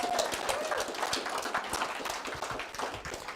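An audience at a live presentation claps in a dense, steady patter of many hands that carries on evenly throughout, with no pause or voice rising above it.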